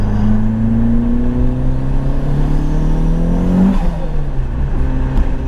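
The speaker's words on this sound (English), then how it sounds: "That's such an odd noise coming from a Clio, isn't it?" Turbocharged Renault Clio 182 tuned to 325 bhp accelerates hard through the gears, a loud, steady engine roar with rising pitch sweeps, a brief shift break near the end, then pulling again, heard close from inside.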